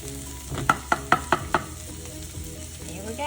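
Okra fries in a pan with a low, steady sizzle, broken by five sharp rhythmic knocks of a utensil against the pan in quick succession, close by and with no talking.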